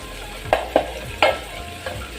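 Tomatoes cooking in a pan for sukuma wiki, four distinct scraping stirs at an irregular pace over a quiet, steady low background.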